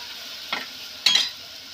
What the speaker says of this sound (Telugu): ఇప్పుడు దీంట్లోనే మనము పచ్చిమిర్చి, ఎండుమిర్చి కొద్దిగా వేసుకొని మంచిగా కొద్దిగా ఫ్రై చేయాలండి.